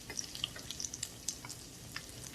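A shrimp egg foo yung patty fries in a pan with soft, steady crackle and scattered sharp pops and spits, fairly quiet and close.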